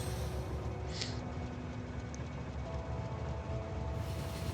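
A train in Factorio runs steadily along its rails with a continuous low rumble and hiss, moderately close and alone, with a faint tone rising partway through.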